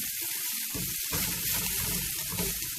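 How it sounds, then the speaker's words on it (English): Onions being stirred into a hot pan of kale, with a steady, loud sizzle of frying that swells after the first second and runs continuously, close up and alone. "Now I'm going to mix the onions in with it."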